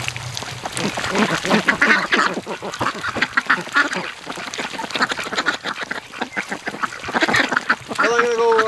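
Muscovy ducks in a snowy garden give a close, busy run of rapid, overlapping quacks and hisses that rise and fall in bursts, with a brief honk near the end.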